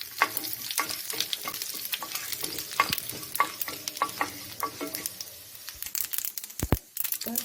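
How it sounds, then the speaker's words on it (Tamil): Mustard, cumin and fennel seeds crackle and pop in hot oil, a dense irregular sizzle with sharp spitting bursts, close and steady throughout. "இப்போ கடுகு, ஜீரகம், சோம்பு 3ஐயும் போட்டுருவோம் தாளிக்கிறதுக்கு."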